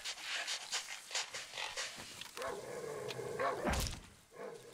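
Hostile dogs in the Darkwood video game give a run of sharp, rhythmic barks, then pant and growl, fairly close and quiet, with no talk over them.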